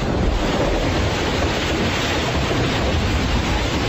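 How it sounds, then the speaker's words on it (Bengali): Heavy rain pours down in a dense, steady roar of broadband hiss, loud and unbroken throughout, with no voices. "এইবার শুরু হলো ভীষণ বেগে বৃষ্টি।"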